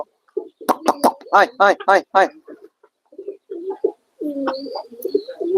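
Pigeons coo and flutter inside a pigeon house kept alongside young chickens, a run of close, throaty cooing calls followed by softer scattered calls and some rustling.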